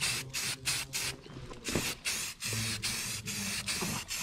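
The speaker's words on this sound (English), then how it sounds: "I'm just switching up and going with like a rattle can paint job" Rattle can spray paint hisses in repeated short bursts onto engine parts such as an intake manifold for a 1JZ engine, with brief gaps between sprays, close and steady.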